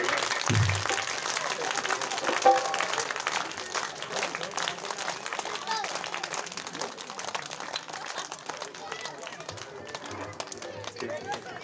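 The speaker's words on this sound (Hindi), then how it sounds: "तो ताली बजानी है दोनों हाथों से ऐसे बजाइए, तेज आवाज बजाइए" Audience clapping with both hands at a village religious storytelling gathering: a dense, continuous wash of applause through the whole stretch, with voices mixed in.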